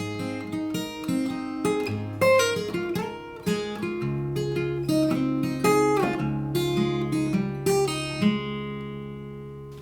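An acoustic guitar plays the closing bars of a song as gently picked single notes over ringing open strings in an unhurried rhythm, ending on a sustained chord that fades out, with no voices.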